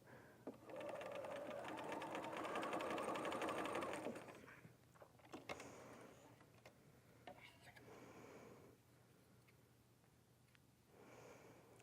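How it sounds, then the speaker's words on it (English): Sewing machine running a seam straight across the top of folded quilting fabric for a Dresden Plate block, a steady whirring burst that stops, followed by faint handling sounds and quiet voice. "you just sew right across the top"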